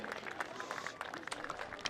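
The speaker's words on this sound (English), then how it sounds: "One last big round of applause for all of our seniors in the class of 2023." A crowd at a high school football game applauds graduating seniors, distant and fairly quiet, with scattered claps forming a loose, steady patter and some voices in the background.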